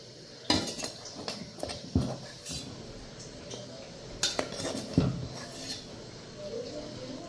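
A metal spoon clinks and scrapes against a bowl or dish as powdered sugar is spooned in, a few sharp close knocks spaced out over faint background noise.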